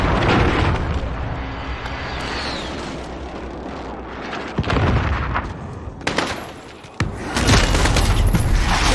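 Video game airstrike explosions rumble heavily under steady machine-gun fire, with booming blasts building toward a loud, dense barrage at the end.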